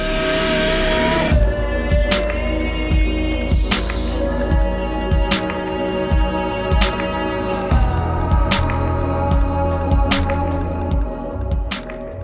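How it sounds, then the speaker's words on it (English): Ambient downbeat electronic track, with warbled, pitch-shifted vocal samples drifting in and out over a dense, spacious bed of sustained tones and steady low pulses, with sharp accents recurring throughout. "It's a haunting and emotional track filled with ambience and space, all with these pitch-shifted vocal samples flying in and out"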